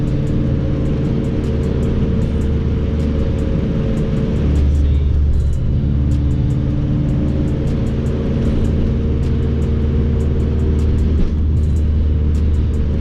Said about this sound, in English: I'm purposely going over these bumps so I can feel if that bushing really makes a difference